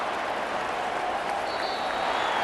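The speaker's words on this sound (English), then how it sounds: "And the home crowd applauding." Home crowd applauding in a Madden NFL 25 football game between the Patriots and Eagles, a steady wash of clapping and crowd noise with no breaks, moderately loud throughout.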